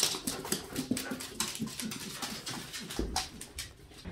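A puppy whimpers outdoors with soft, thin, repeated whines and small yelps over faint ambient noise, fairly quiet and close.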